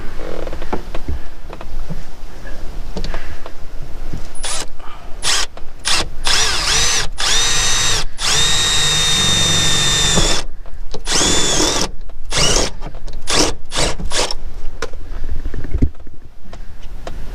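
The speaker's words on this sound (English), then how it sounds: "I'm gonna come in and drill it with the step bit" A loud power drill with a step drill bit whirs steadily for a long stretch during a Nissan Pathfinder fuel pump install, its pitch rising and dropping as the bit cuts, with brief stops and restarts near the end.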